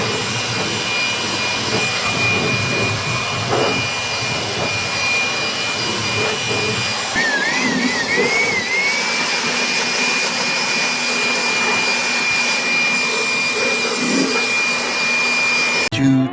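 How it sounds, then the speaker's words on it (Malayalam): A machine blows water off the floor of a Maruthi 800 car, a loud, steady whining roar like a blower or vacuum that runs without a break, its pitch dipping and wavering briefly partway through. "നമ്മൾ ഈ മെഷീൻ വെച്ചിട്ട് ഈ വെള്ളമെല്ലാം അടിച്ച് കളയാൻ പോവാണ്"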